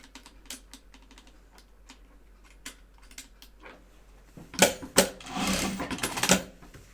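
A home sewing machine stitching medical masks makes a few soft, scattered ticks and taps at first, then breaks into louder bursts of rapid mechanical whirring and clatter near the end.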